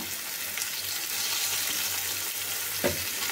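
Onions with salt frying in a pan, a steady close sizzle with soft scraping as they are stirred, no talking.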